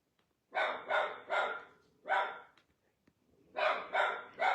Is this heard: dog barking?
yes